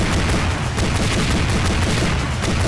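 Gunfire in a first-person SCP monster video game with the SCP 6789 Siren creature: dense, loud, continuous rapid shooting that fills the whole moment without pause, no talking over it.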